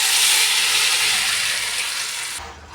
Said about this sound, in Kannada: ಈಗ ಒಗ್ಗರಣೆ ಹಾಕೊಂಡಿದ್ದೀನಿ ನೋಡಿ.